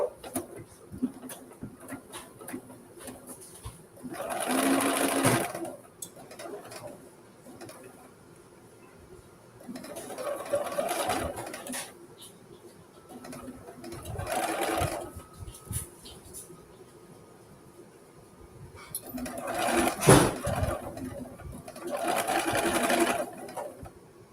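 A sewing machine back stitches a seam on jeans in several separate bursts, each a close, steady, rattling whir lasting a second or two, with quiet handling noises in the pauses between them.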